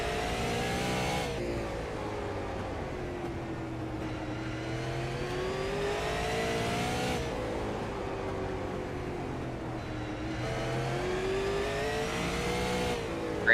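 Super Late Model stock cars race around the short oval at Slinger Speedway, engines roaring steadily and rising and falling in pitch with each corner and short straightaway, loud and continuous with no voices.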